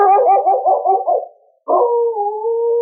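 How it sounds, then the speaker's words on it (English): Dogs howl from woods beyond a Yukon town near Dawson, giving a wavering, mournful howl, a brief pause, then a second long, steady howl close and loud. "There were answering howls from the woods beyond the town."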